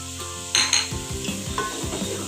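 Ground spice masala with coriander powder fries in a pan for a hadi gudi salan, sizzling steadily while a spoon scrapes and stirs it in rhythmic strokes against the metal.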